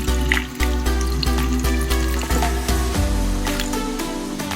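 Water runs and splashes steadily into a pan, with a low continuous hum and occasional clinks throughout.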